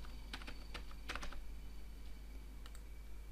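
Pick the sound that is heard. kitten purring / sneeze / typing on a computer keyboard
typing on a computer keyboard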